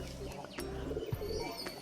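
Racing pigeons released into flight give soft coos and light chirps, with a couple of brief wing-flap bursts. The sound is faint and somewhat distant, over a quiet outdoor background.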